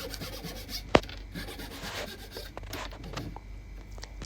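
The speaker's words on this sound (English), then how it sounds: "The sanding, this is what makes it look premium." Wood being sanded by hand in a woodworking shop, soft repeated rubbing strokes, close and fairly quiet, with one sharp click partway through.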